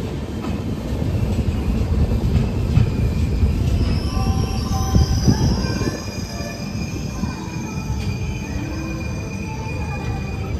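Kongu Express passenger train running near Mahbubnagar, with steady loud rumble of wheels on rail, recurring metallic squeals and clatter throughout, heard from on board without talk.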